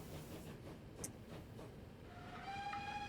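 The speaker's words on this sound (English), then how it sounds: "Look at these trains." Trains running in the transport simulation game Transport Fever 2, a steady low rolling rumble with faint clacks, then a sustained horn-like tone rising in the last second.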